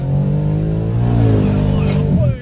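A 550bhp BMW M140i sleeper accelerates hard on boost, heard from inside the car. The engine note climbs in a loud, rising rev over a couple of seconds, then cuts off abruptly.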